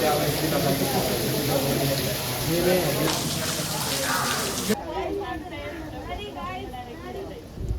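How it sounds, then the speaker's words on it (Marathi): Steady heavy rain hisses across the whole clip at Murudeshwar Temple in Karnataka, a dense broadband wash with a brief louder burst partway through, and voices murmuring underneath. "खूप जोरात पाऊस झालाय परत चालू"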